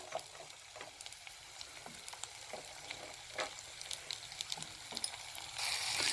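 Chopped onions and tomato sizzle gently in a pan as the base for a sardine curry, a soft steady crackle with scattered pops and faint stirring scrapes, no voices.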